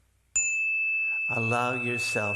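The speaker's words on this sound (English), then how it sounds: "the bell fades into the cosmos" A meditation bell is struck once and rings on with a pure, sustained tone, fading slowly while a voice begins speaking over it.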